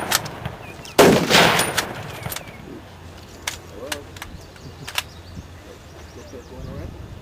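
WWII weapons fire blanks at a reenactment encampment in a historic village: one loud close burst followed by several scattered sharp single shots, with outdoor ambience and birds in the background.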